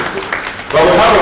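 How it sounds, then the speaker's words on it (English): Audience applause at the Miss Western 22 beauty pageant finalists event surges in loudly and steadily after a brief stretch of talk, filling the rest of the moment. "I think we should give a round of applause for Ikea and his"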